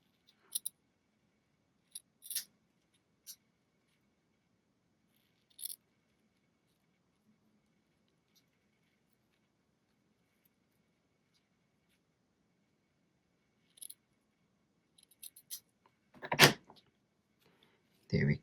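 Scissors trimming silver paper for a handmade gift box, heard as a few short, sparse snips and light paper rustles close by in a quiet room, with a louder crinkle near the end.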